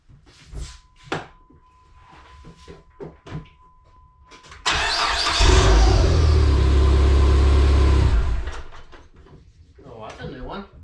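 A Dodge Neon SRT-4 with a bad clutch cranks and fires up, then idles loudly with revving for a few seconds before dropping back. People talk before and after.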